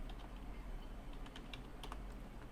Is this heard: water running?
no